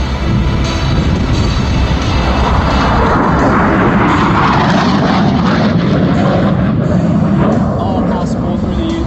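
An AV-8B Harrier jet, Rolls-Royce engine, makes a high-speed low pass at a Marine Corps air show, a loud sustained roar filling the air while a public-address announcer talks over it.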